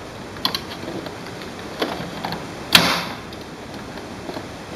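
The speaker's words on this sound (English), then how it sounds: "Push the black cartridge into the right slot. Push it all the way in until you hear a snap." A black ink cartridge is pushed into the right slot of an HP DeskJet printer and snaps into place. Small plastic clicks come first, then one sharp snap near the middle, close and clear in a quiet room.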